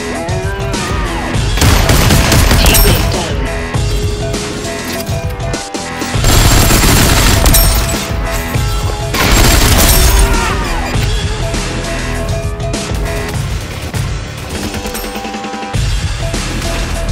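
Rapid bursts of gunfire in the VR shooter Population: One, loud and close, arriving in repeated volleys with short pauses between them.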